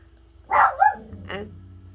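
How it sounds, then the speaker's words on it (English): A small pet dog named Roxy barks indoors at someone outside, two sharp yappy barks close by, with a faint hum in the background. "excuse my little puppy, my Roxy. She hears somebody outside."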